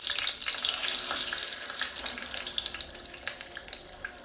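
Beaten egg poured into hot oil over a low gas flame, a soft crackling sizzle that settles into lighter popping bubbles, faint and close.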